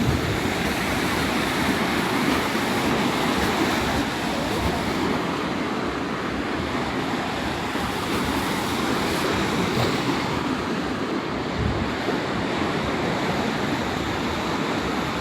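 A windy seaside with waves gives a continuous broadband roar of surf, with gusts buffeting the microphone throughout and no voices.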